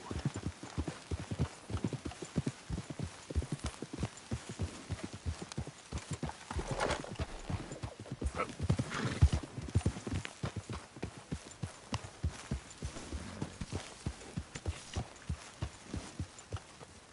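Horse hooves clip-clop steadily in Red Dead Redemption 2, a close, rhythmic run of sharp strikes that continues throughout with a brief snort or whinny near the middle.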